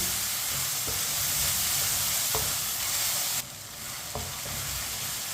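Tomatoes fry in a pan for a chicken tinda curry, a continuous loud sizzle with occasional scraping knocks from the spoon as they are stirred, the hiss dropping briefly partway through.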